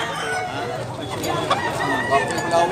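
A bullstag gamecock crows at a Cebu hatchery yard, its call rising out of a dense, noisy backdrop with murmuring voices nearby throughout.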